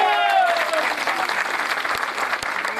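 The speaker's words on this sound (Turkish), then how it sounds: "Bursa AK Parti Milletvekili Sayın Mustafa Eski Bey'le bir alkışlayalım." Crowd applause at an open-air Turkish oil wrestling event in Sincan, a steady dense wash of clapping for the whole stretch, with a voice's tail fading at the start.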